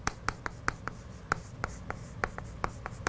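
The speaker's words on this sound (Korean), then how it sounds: "한번 써볼게요." Quick taps and scratches of writing on a board during a lecture on the National Assembly, a close, irregular series of short strokes with faint room hum behind, no talking.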